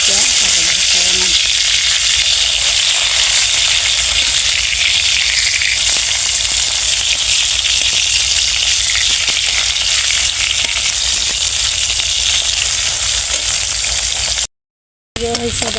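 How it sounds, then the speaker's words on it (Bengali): Onion and garlic being fried for a black cumin mash make a loud, steady sizzle heard close, with occasional stirring clicks and a brief dropout near the end; a faint voice can be heard beneath it. "পেঁয়াজ আর হচ্ছে রসুন এগুলো হচ্ছে আগে একটু ভাজা নিতেছি"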